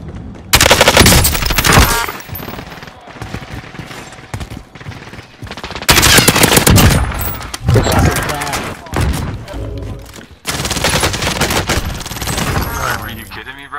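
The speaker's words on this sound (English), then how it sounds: "He's just getting shot up." Bursts of automatic gunfire from Call of Duty Warzone, loud rapid rattling volleys in three main clusters separated by brief quieter gaps, with thuds and scattered shots between.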